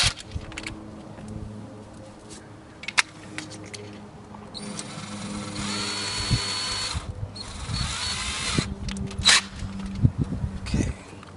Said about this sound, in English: Get our drill out here. This is a 5/32 drill.